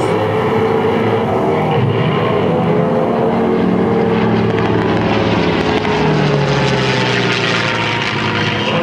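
A P-51 Mustang warplane roars past at the Leesburg airshow, its propeller engine loud and continuous throughout, with the pitch sliding downward as it passes overhead.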